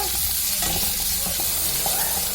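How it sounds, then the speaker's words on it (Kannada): Onions and tomatoes sizzle and fry in a pan for goat tripe and brain sambar while a spoon stirs through them, producing a steady close crackle with no voices. "ಈ ತರ ಚೆನ್ನಾಗಿ ಫ್ರೈ ಆಗಬೇಕು"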